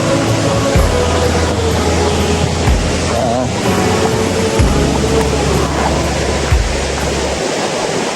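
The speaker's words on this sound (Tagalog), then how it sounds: "Sheesh, may falls na, oh." Steady broadband rush of a waterfall at Pagapeden Falls in General Nakar, Quezon, loud and continuous with a low rumble underneath, and voices talking over it.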